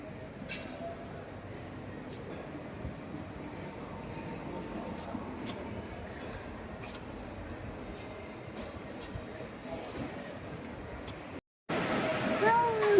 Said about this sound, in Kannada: ಇಲ್ಲೇನು ಟ್ರೈನ್ ಹೊಡೆದಿದೆ ಹೊರಡುತ್ತೆ ಹೊರಡುತ್ತೆ